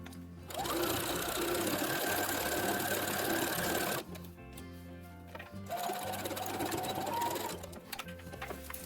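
A sewing machine runs a straight stitch along a zipper edge on a costume jumpsuit, in two long steady whirring bursts separated by a short pause.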